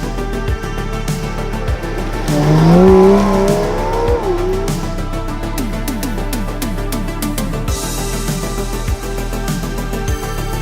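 Aston Martin DB7 GT car driving, a continuous engine note that climbs and falls through gear changes, with a brief louder rising pitch sweep early on and steady road drone throughout, no voices.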